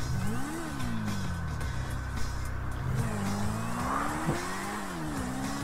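A car engine in GTA V Online arrives with a steady engine drone whose pitch rises and falls as it revs, with faint tire noise, continuous throughout and no talking.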